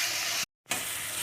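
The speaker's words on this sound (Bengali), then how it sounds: "এবার এটা পেঁয়াজের সাথে খানিকক্ষণ নাড়তেই থাকবো, যতক্ষণ না আদা রসুনের একটু ফ্রাই হয়ে যাচ্ছে" Onions and ginger-garlic paste fry in a pan with a steady, close hiss and sizzle, broken by a brief moment of silence before the sizzling resumes.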